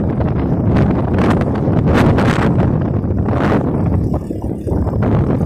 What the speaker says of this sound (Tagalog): Malamig ang hangin kasi tabing dagat.